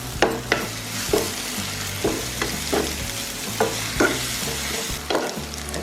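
Ginger garlic paste frying with onions in a hot pan for a village-style snake fish masala, a steady sizzle broken by about eight sharp scrapes of a spoon stirring, close and alone with no voices.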